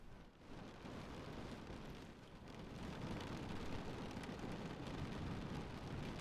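Steady, dense rain pours down without a break, a loud, even wash of noise that swells slightly louder midway and carries no talk.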